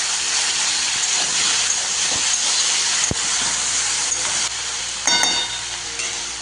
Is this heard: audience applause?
no